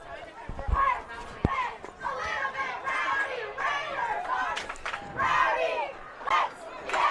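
Crowd of parents and kids at a varsity football game, a loud, continuous roar of shouting and cheering with yells rising and falling throughout, dense and close.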